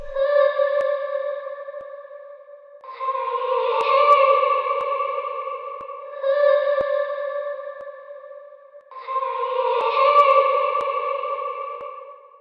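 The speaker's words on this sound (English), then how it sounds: "Now I got this vocal chop from Splice" A sustained, tonal vocal chop sample repeats in long phrases, alternating two pitches, with a washy reverb tail and filtered, slightly distorted sheen.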